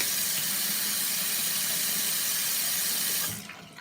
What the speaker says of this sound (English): I'm just put plain water in here.